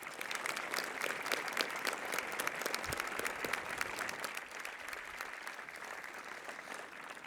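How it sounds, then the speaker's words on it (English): An audience at a high school assembly applauds, a sustained wash of clapping from a large crowd in a hall that carries on evenly for several seconds. "Please help me share in our appreciation with a round of applause."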